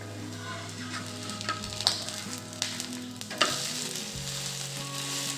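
Sweet potato feni roasts in ghee over a low gas flame with a strong, steady sizzle, plus a few clinks of a turner against the pan and a faint background hum.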